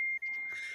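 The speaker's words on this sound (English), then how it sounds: "Somebody's beeping." A single thin electronic beep sounds steadily, a high pure tone held for about half a second, fairly quiet against a near-silent background.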